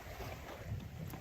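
Wind gusts across an open dock on the Kennebec River, a continuous broadband rush buffeting the microphone, steady and fairly soft throughout with no other distinct sounds.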